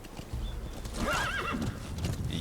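A horse in the Metal Gear Solid 5 game, set in Afghanistan, gallops with steady close clip-clop hoofbeats, and a clear whinny rises over them midway.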